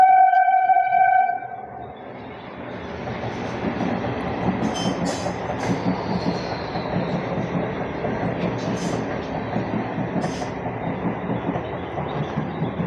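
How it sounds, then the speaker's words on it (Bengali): A train passes near a house, a steady, close rumble of rolling wheels and rail noise that follows a brief horn blast and continues loudly throughout. "এখান থেকে ট্রেন দেখা যাচ্ছে।"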